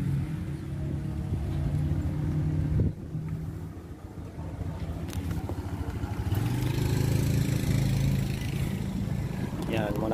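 Rusi Royal motorcycle riding on the road, a steady engine drone with wind rushing over the microphone throughout, briefly dipping near the middle before swelling again, with a voice talking over it.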